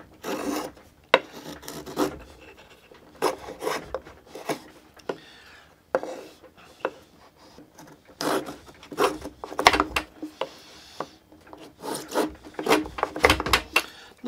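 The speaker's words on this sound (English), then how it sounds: "So let's see how this is at cutting. We'll put a chamfer on this edge." A Buck Bros hand plane cuts a chamfer along a wooden board edge in repeated rasping strokes, each a short scraping shave with pauses between, close and clear with no talking.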